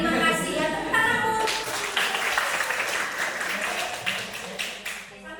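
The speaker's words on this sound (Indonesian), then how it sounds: "Tepuk tanganmu" Students in a classroom clap together in a sustained, fairly loud round of applause lasting several seconds, dense and steady before tapering slightly at the end.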